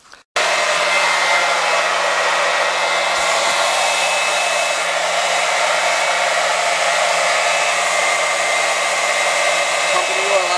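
An electric pump transfers heating oil through a hose back into the top of a 275-gallon tank, giving a steady, loud motor whine with a constant hum that runs unbroken after a brief start.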